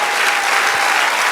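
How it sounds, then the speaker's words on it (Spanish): A church congregation applauds in praise, brisk dense clapping filling the room loudly and evenly for a brief stretch with no voices over it. "Denle un aplauso al Señor."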